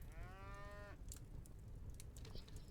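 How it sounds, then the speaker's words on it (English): A cow in the video game Daggerfall Unity lets out one short, fairly faint moo, followed by quiet clicks of computer keys against a low background hum. "that the cow outside?"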